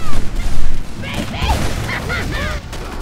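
A Gatling gun fires in the video game MicroVolts, heavy rapid bursts and booms that are loudest at the start, then continue more softly under a talking voice.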